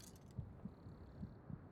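A heartbeat thumps in a video game as the player's health drops, with soft low beats in pairs at a steady, slightly quickening pace, faint and muffled over a quiet hum.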